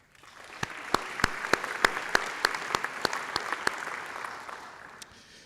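An audience at a university faculty and staff convocation claps, with a run of sharp, evenly spaced claps standing out close by over a softer, fainter spread of applause that thins out toward the end.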